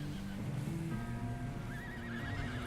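A horse in Red Dead Redemption 2 whinnies with a wavering neigh over steady outdoor game ambience, with faint hoof clops underneath.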